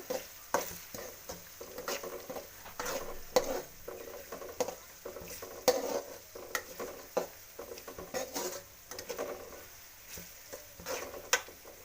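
Two packets of MTR puliyogare paste fry in a little oil, giving a low sizzle with frequent clinks and scrapes of a spoon against the pan in an irregular rhythm, no talk.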